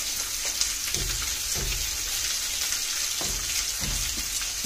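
Green chillies frying in hot oil for a sweet potato pulusu, a steady close sizzle with soft crackles and occasional stirring scrapes throughout.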